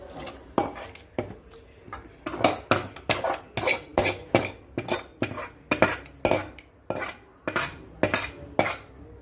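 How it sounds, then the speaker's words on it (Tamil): Metal spoon scrapes and clanks rhythmically against a pot as masala is stirred into rice for sadhakuppai sadam, roughly a dozen close, loud strokes in a steady beat with a grainy rasp between them. "இப்போ அதை இந்த மசாலாவை அந்த அரிசியில் கொட்டிக்கிடணும்."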